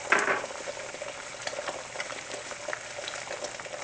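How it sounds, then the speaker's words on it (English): Butter sizzles and crackles steadily in an already hot frying pan, with a brief louder burst at the start settling into a continuous close hiss. "So I just added some butter in my pan. Had the pan already hot."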